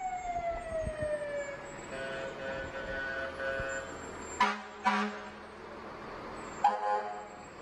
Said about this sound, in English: while we've got the fire crew going by here